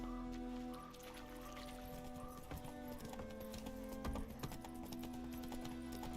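Geralt's horse Roach galloping in The Witcher 3, a steady drumming of hoofbeats close by, layered over a low ambient music bed with occasional louder thuds.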